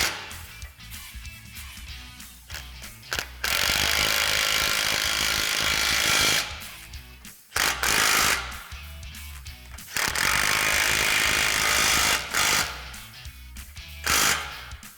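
A power tool tightens hood rack mounting hardware on a Polaris Ranger 1000, whirring and rattling in loud sustained bursts of a few seconds each, broken by short quieter gaps, up close.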